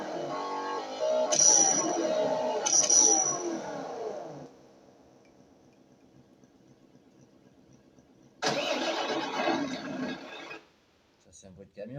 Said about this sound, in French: Ça, c'est un bruit de camion.